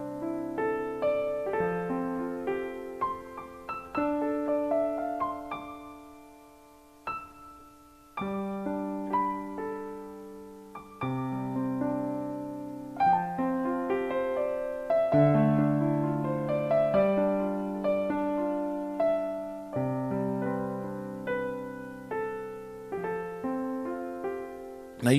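Smooth, flowing piano chords rolling one into the next with sustained overlapping notes, calm and continuous, close and alone with no talking.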